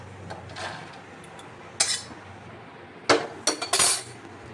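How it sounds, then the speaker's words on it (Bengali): Cashews and almonds frying in a pan under a faint low sizzle, with sharp metallic scrapes and clinks of a utensil against the pan, a single stroke followed by a quick cluster of several, close by. "কাজু বাদামটা বাজা হতে হতে কাঠবাদামটা আরেকটু হবে দুটো একসাথে ভেজে নিচ্ছি"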